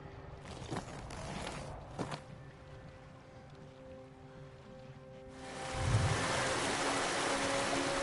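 Rushing water from a waterfall and stream in a samurai video game swells up partway through and then holds as a steady broad roar, after quieter footsteps and ambient tones.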